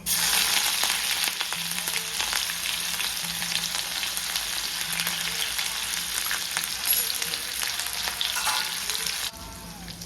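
Mustard seeds and ginger sizzling in hot oil in a kadhai, a loud, close, continuous crackling fry with small pops throughout, easing slightly at the very end.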